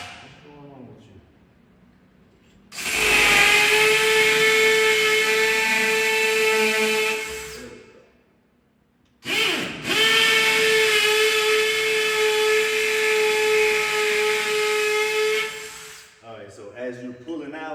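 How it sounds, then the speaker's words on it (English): Power drill boring into a brick wall to mount a Samsung 70-inch TV, running in two long loud whining bursts of several seconds each with a short pause between, close up. "So keep drilling as you're coming out so you can get the debris out."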